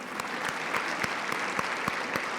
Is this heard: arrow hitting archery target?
no